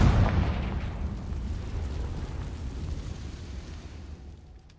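The Confringo spell in the video game Hogwarts Legacy explodes as a single loud, deep blast at the start, followed by a rumbling tail that fades gradually over several seconds.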